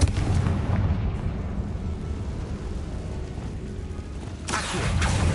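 A Confringo blasting spell detonates in Hogwarts Legacy, a loud rumbling explosion with a long roaring decay, followed by a second sharp burst near the end.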